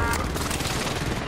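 Rapid bursts of gunfire from the video game Warzone, loud and dense, a continuous fusillade filling the whole moment with no talk over it.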